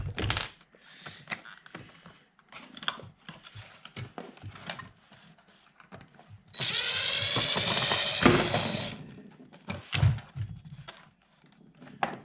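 Rustling and crinkling of packaging as a Kwikset Halifax black door latch and deadbolt set is taken out of its box, with scattered clicks and knocks and a sustained loud crackling stretch in the middle, close up.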